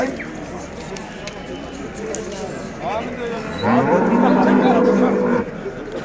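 Cattle low at a busy livestock market in Göksun, Kahramanmaraş, with several drawn-out moos, one loud and close toward the end, over a crowded background of voices and general market noise.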